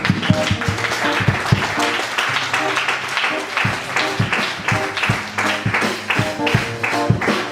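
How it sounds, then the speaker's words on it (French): A church congregation claps and cheers loudly in rhythmic bursts over steady music, with voices mixed into the sustained acclaim throughout. "Je veux qu'on acclame très fort ici"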